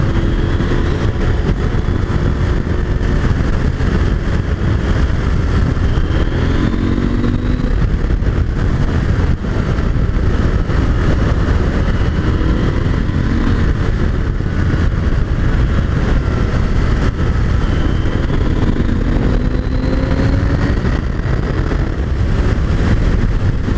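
A KTM 890 Adventure R Rally motorcycle rides along a mountain road, its engine droning loudly and steadily alongside a constant rush of wind.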